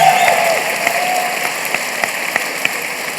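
An audience at a youth coding event claps loudly and steadily, a dense patter of many hands filling the room, with a few sharper individual claps standing out.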